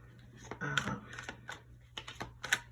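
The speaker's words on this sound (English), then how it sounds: "I like to shuffle them again" Tarot cards being shuffled up close, a series of crisp riffling and snapping bursts in quick irregular succession.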